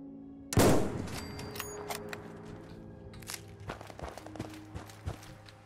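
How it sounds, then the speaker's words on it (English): Gunshot in the video game Fallout 4: one sharp, loud bang early on, followed by a ringing decay and softer scattered game noises and footsteps. "That was a gunshot."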